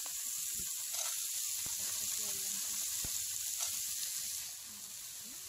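Sea shells sautéed in a pan, a steady faint sizzle and hiss with occasional stirring clinks, the sizzle easing slightly near the end.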